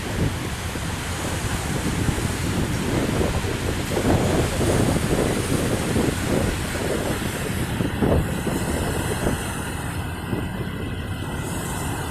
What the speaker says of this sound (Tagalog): Puro dagat pa po ito, hindi ito siya dam site